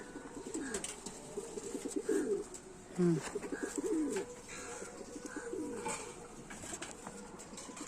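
Pigeons coo repeatedly in close, overlapping rounded calls, with a few louder bursts, among a flock of closed-tailed Chennai pigeons and their young kept for sale.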